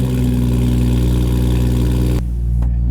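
A BMW M240i engine drones loud and close from inside the car, a steady, deep rumble that drops off abruptly near the end.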